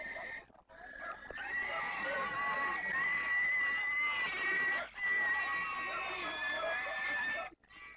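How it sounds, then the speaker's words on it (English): Pigs squeal and scream loudly and almost without pause as they are hauled in for a blessing at a sacrificial festival of the Apatani people in Ziro, Arunachal Pradesh, with brief gaps in the shrill cries. "Pigs are brought to be blessed, rather unwillingly"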